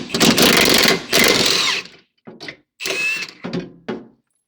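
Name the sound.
cutting bolts free under a Porsche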